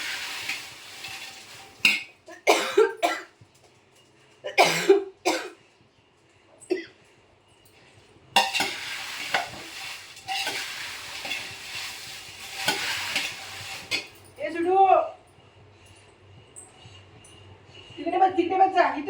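Chillies roast in a pan amid steady sizzling and repeated stirring scrapes, heard up close, with people talking over it at intervals.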